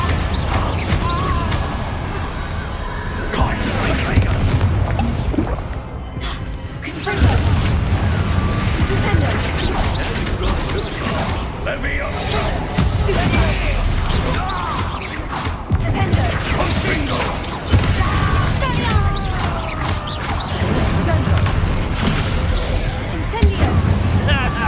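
Repeated Confringo explosion spells cast in Hogwarts Legacy, heard as loud crashing bursts and booms over a busy, dense game soundscape throughout, with a voice talking at times.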